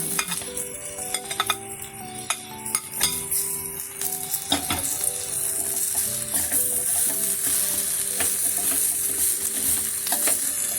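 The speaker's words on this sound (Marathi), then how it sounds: "आता आपल्याला बटाटा टाकून घेणार आहोत आपण। मॅश केला होता मी" Mashed potato goes into a sizzling spice mix for vada pav and is stirred, with steady frying hiss and repeated scraping and clinks of a spoon against the pan throughout.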